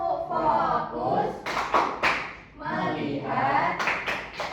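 A fifth-grade class in Indonesia does a rhythmic clapping game, clapping together in a brief pattern mixed with chanting children's voices, fairly close and lively.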